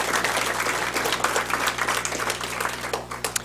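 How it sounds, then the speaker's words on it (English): People at a board of education meeting give a round of applause, steady clapping in a room that thins toward the end, leaving a few scattered claps. "I think that deserves a round of applause as well."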